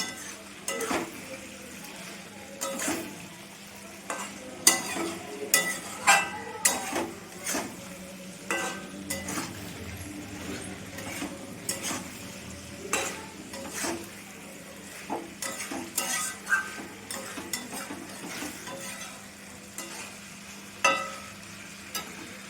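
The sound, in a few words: tossing fried cauliflower and potato in a pan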